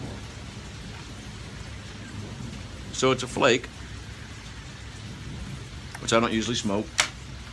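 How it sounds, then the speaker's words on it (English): Steady rain falls through a rainy afternoon, a constant soft hiss beneath someone speaking in two short bursts. "It's a rainy day."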